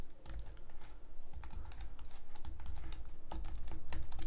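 A computer keyboard typing a search query in quick, irregular bursts of close clicking keystrokes, fairly faint and steady throughout, with no talking.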